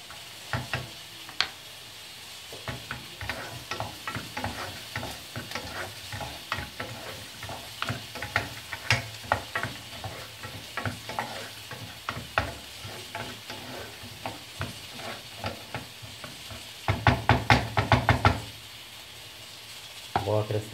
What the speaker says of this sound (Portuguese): Agora vou acrescentar o gengibre. Minha cebola já fritou.